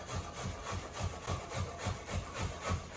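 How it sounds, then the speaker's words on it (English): Cucumber being grated for tzatziki makes quick, regular rasping strokes, each back-and-forth scrape repeating at an even rhythm, close and moderately quiet with no voices. "And when you're grating, you have to just be really careful."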